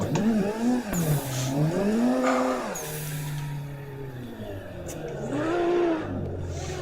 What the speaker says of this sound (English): try to get some tandems, or we'll just spin the car out